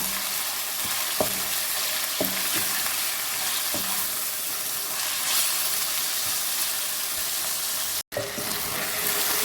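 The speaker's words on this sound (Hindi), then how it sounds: "इसे अच्छी तरह से इसे फ्राई कीजिए, इसका कलर चेंज होने तक।" Boneless chicken fries in a pan with a steady loud sizzle and hiss, broken by several scraping stirs and a brief knock near the end.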